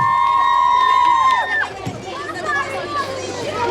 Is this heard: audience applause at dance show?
yes